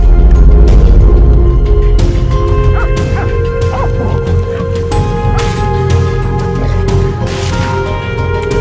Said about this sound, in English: Suddenly, the hunting dogs barked furiously, signaling something was near.